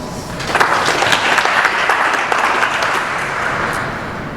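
Steady applause from a graduation audience, dense overlapping claps sustained at an even level throughout with no break.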